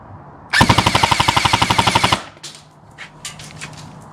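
An airsoft gun fires one loud, close full-auto burst of about twenty evenly spaced shots over an Acetech AC6000 chronograph. Faint handling clicks follow the burst.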